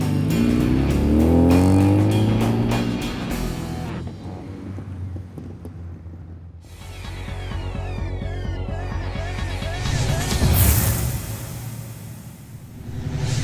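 A Mazda RX2 car engine drives past, swelling loud and then fading before returning, with a shifting engine note and no talk.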